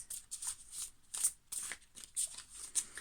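A deck of Priestess of the Light oracle cards is shuffled up close, with quick repeated papery riffles and flicks in a busy, crisp rhythm and no voice over them.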